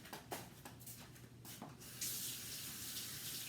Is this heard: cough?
no